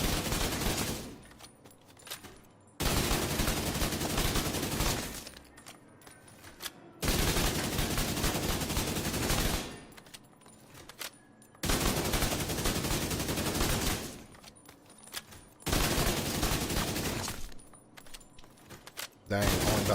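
Rapid bursts of automatic gunfire in The Division come in four long volleys separated by short pauses. The fire is loud and sustained and fills the whole scene.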